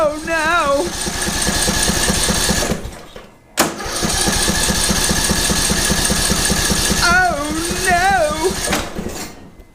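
A lawn mower's small engine turns over and runs with a steady, rhythmic chugging that cuts out briefly before picking up again, close and loud, with a voice speaking over it.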